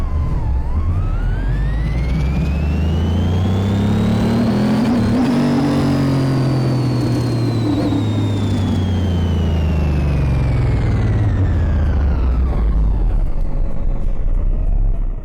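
Loud, sustained revving from a supercharged Chevy Corvette C4 on a dyno in Car Mechanic Simulator 2018: the engine climbs to a high-pitched peak, holds, then winds back down near the end, with a whining overtone throughout.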